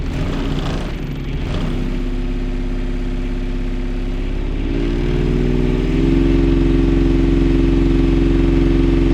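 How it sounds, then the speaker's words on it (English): A Kubota diesel engine fitted in a Saturn car revs up toward its governed limit, a loud close droning hum that climbs in steps and holds a steady high pitch at the end. "The engine is capped at 2700 RPM"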